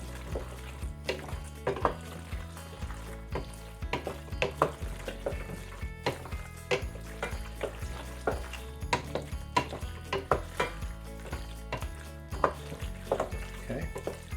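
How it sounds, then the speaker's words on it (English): Pasta being stirred into meat sauce in a pot, with repeated scraping and clinking of a utensil against the pot in an irregular rhythm, close and moderately loud, with no talking. "we're going to mix all this together. I want to make sure all of that pasta is coated with that meat sauce."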